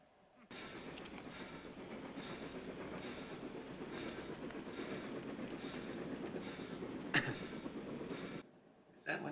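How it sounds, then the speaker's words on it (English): A train running on rails in a 1969 western film, a steady rumbling roll that holds for most of the stretch at moderate level, with a brief sharper clank near the end. "Can I crash into that train?"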